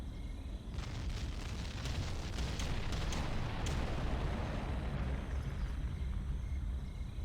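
Artillery bombardment in the strategy game Ground Control: a sustained, heavy rumbling roar of explosions with crackling bursts layered on top, steady and loud throughout with no voices.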